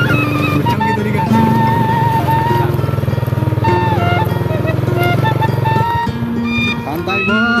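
Motorcycle engine revved and throttled on a quiet village mountain road, loud and close, with a steady buzzing drone and rising pitch swings, while people talk over it.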